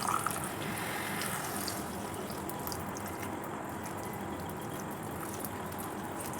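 Steady running water pours and splashes continuously at close range into a pan while making egg curry, with no talking over it.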